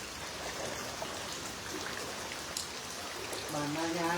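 Heavy rain pours steadily during a flood at Ban Nayang, Vientiane, a dense, close hiss of drops with trickling water, and a voice emerges faintly near the end.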